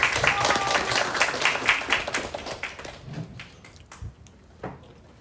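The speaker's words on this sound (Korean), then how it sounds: "박수 부탁드립니다" Audience at a provincial council lecture academy in Jeju applauds a National Assembly member taking the microphone. Dense clapping comes first and fades after about three seconds into a few scattered claps and quiet room noise.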